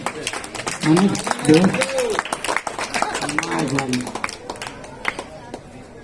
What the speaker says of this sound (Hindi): वाह तालियां यार